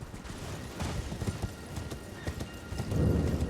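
Torrent, the spirit horse in the video game Elden Ring, gallops with quick rhythmic hoofbeats. The clip-clop is fairly soft and steady, and a brief louder rumble comes near the end.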